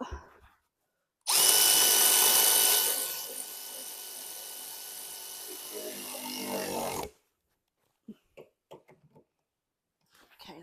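A powered ratchet drives new 10mm bolts on a Volvo V50 during a front coil spring replacement, whirring loudly and continuously for about six seconds before stopping, followed by a few faint clicks and knocks.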